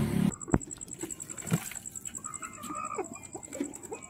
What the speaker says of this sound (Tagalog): Yan yung mga sisiw niya